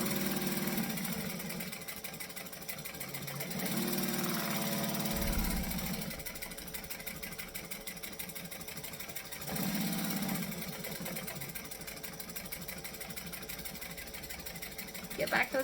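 A sewing machine stitches fabric coated with Odicoat, its fast needle chatter running in bursts with brief pauses and changes in pace, close and moderately quiet, with a person talking over it.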